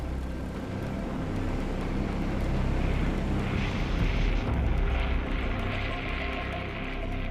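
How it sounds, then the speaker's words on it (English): A WW2 bomber of the Regensburg force taking off into overcast skies, its engines a loud, continuous rumbling roar that swells slightly midway and holds steady throughout. "Armanini and the Regensburg force lift off into the overcast skies and set a course for Germany"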